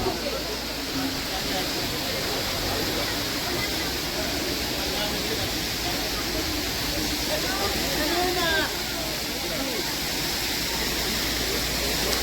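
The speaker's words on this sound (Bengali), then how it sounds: "এখানে একটা ঝর্ণা আছে," Steady rushing water from a natural waterfall at Rock Garden, a broad, constant hiss and roar that fills the whole stretch at moderate loudness with no break.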